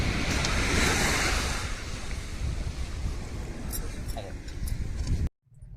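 Sea waves wash steadily onto the seashore, with strong wind rumbling over the microphone. A person talks under the surf, and the sound cuts off abruptly near the end.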